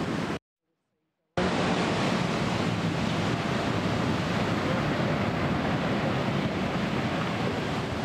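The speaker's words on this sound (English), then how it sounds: "Some amazing waves today." Sea waves break on a Norfolk beach with a broad, steady surf wash and some wind buffeting the microphone, loud and close after a brief dropout near the start.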